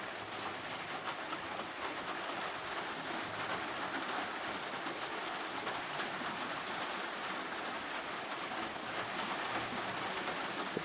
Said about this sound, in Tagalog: medyo maingay kasi umuulan